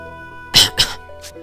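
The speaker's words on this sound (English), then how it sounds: "I've been coughing a lot these days." Two quick, harsh coughs close to the microphone, then a fainter third burst a moment later, set over a quiet steady background tone.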